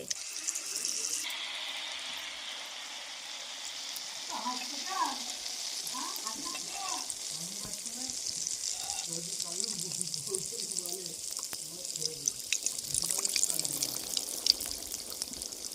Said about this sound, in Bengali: সুন্দর ফুলছে সব ফুলকো ফুলকো তেলের পিঠে হচ্ছে